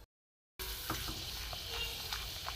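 Potato papad made from boiled potatoes sizzles steadily in hot oil, a close, continuous frying hiss that starts abruptly after a brief silence, with small crackles and pops scattered through it.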